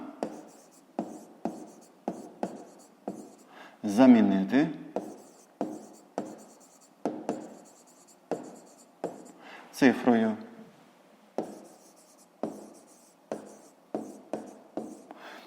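Pen or pencil writing math notes by hand on paper, a run of short scratchy strokes in a steady rhythm, with two longer, louder scribbles in the middle.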